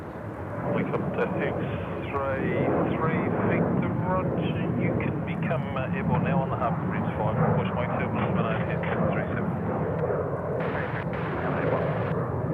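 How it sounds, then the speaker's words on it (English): A Vietnam Airlines Boeing 787 lands on runway 34 left at Sydney Airport, producing a broad, continuous jet roar and rumble heard at a distance beneath steady talking throughout. "Alrighty, Vietnam 787 now cleared to land, 34 left."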